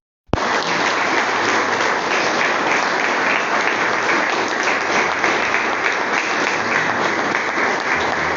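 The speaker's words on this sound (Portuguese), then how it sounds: "Que as palmas louvam o nome do Senhor." A church congregation claps together in praise, a loud dense wave of applause that begins suddenly and continues steadily without speech.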